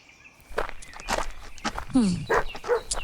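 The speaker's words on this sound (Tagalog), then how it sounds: "Itong mga aso talaga ni Aling Berta, hindi man lang niya tinali." Dogs bark in short, separate bursts over footsteps and shuffling, fairly close, with a few yelps breaking up the activity.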